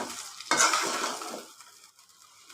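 Puffed rice (muri) is tossed and mixed in a bowl, giving a brief dry, crackly rustle that swells at once and then fades over about a second.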